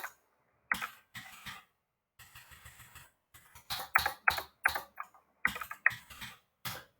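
Short bursts of keystrokes on a computer keyboard while entering CSS code during a programming lesson, quiet and close, in quick uneven clusters separated by pauses, with no speech.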